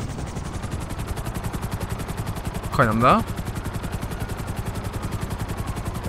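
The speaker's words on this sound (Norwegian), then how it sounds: "Nei, ikke skyte helikopteret mitt da." Rapid rhythmic gunfire rattles steadily at a helicopter in Grand Theft Auto 5, a repeating burst pattern across the whole stretch, with a brief voice speaking in the middle.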